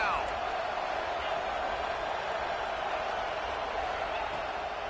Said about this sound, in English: Guns up, and so is the noise. The crowd electric trying to help Tech on this 3rd down.